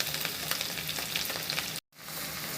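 Garlic ginger paste and whole spices fry in melted butter for butter paneer, a dense close sizzle with crackling bursts that cuts out briefly, then resumes more faintly.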